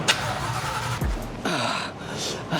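An old Shelby Cobra engine barks loudly to life, then its exhaust rumbles and revs in short bursts, deep and close, with a voice briefly audible partway through.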